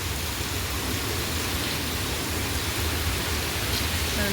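A sudden downpour keeps up a constant broadband hiss, steady and fairly loud throughout, with no voices over it.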